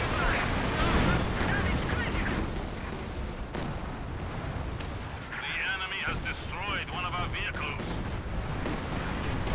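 Heavy Pak 40 anti-tank gun shots boom in a Company of Heroes battle on the Port of Hamburg map, mixed with a dense wash of explosions and gunfire, while someone talks excitedly over the fighting.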